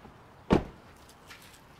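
A single solid thud as a Toyota Tacoma truck door shuts close by, followed by quiet with only faint light rustling.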